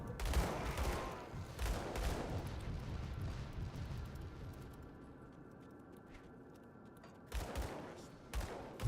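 Enemy gunfire in the action RPG Grim Dawn, heard as bursts of shots and impacts around the start and again near the end, with a rumbling stretch of game noise between them.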